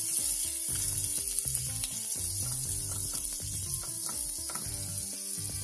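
Garlic sizzles in a hot pan as it melts down for lobster mac and cheese, a steady bright hiss of frying with irregular clicks and scrapes layered over it.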